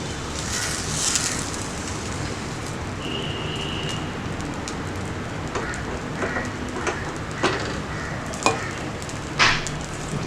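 Sweet appam batter sizzles in a hot appam pan as it is swirled around, making a continuous crackling frying hiss. Scattered scrapes and light clinks of handling come and go over it, and no voice is heard.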